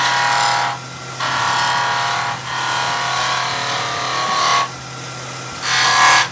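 A skew cuts a Christmas tree decoration spinning on a wood lathe, with a loud, close scraping hiss in repeated passes broken by short pauses, over a steady motor hum.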